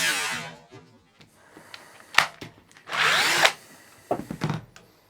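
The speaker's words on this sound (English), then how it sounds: "So let's start drilling." Power drill boring holes through a Commodore 128 computer case, several short high-pitched whining bursts separated by pauses and small handling clicks, close and fairly loud.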